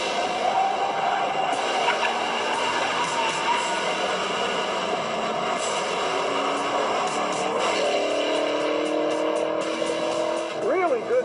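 A 2015 Camaro SS 1LE with a big V8 and manual transmission drives on a race track, its engine droning steadily with rising and falling pitch as it accelerates, while someone talks over the engine noise throughout.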